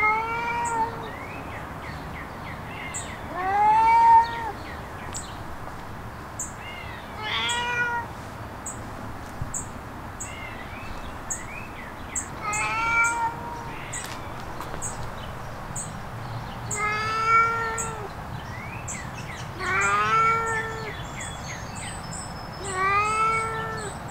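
Cats disturbed while lying on a bed meow repeatedly, loud drawn-out calls rising and falling, several in close succession with short pauses between, over a faint steady background hum.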